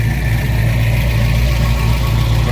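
A Ford Mustang 302 V8 idles loud and close with a steady low rumble, and the power steering pump adds a faint whine on top, with no voices.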